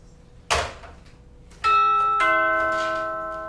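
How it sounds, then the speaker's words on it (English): A doorbell rings in a stage play: a sharp thump, then two clear chime tones in a ding-dong pattern that ring out and slowly decay, close and loud. "That's the doorbell, dear, not the telephone."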